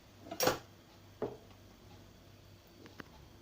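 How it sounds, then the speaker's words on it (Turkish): A spoon taps and scrapes against containers while smoothing cherry-sauce pudding, with a couple of short clinks close by and quiet pauses between them. "Şöyle de düzleyelim kaşık yardımıyla."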